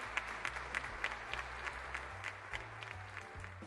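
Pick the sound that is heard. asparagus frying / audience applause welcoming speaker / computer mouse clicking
audience applause welcoming speaker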